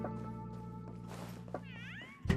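A cat meows from a video game over a steady musical background, with a couple of rising meow calls near the end followed by a sudden low thump.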